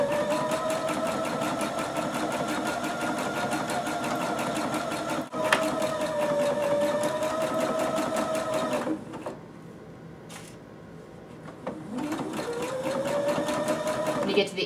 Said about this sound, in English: I'm letting the machine do all the work. All I'm doing is guiding the fabric through.